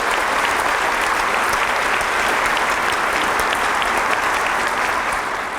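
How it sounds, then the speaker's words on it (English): Audience at a college lecture event applauds steadily, a dense, loud wash of clapping that holds evenly from start to finish with no voices on top. "Let's give them all a round of applause."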